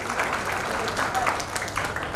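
Guests at a 50th wedding anniversary celebration applaud Vikibhai, a brief, fairly dense burst of clapping with voices mixed in.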